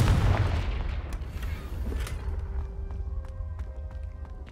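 A Confringo blasting curse fired in the Hogwarts Legacy video game on PC, a loud booming blast that decays into a rumbling tail with faint ringing tones and small crackling hits.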